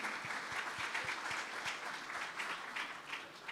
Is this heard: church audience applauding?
yes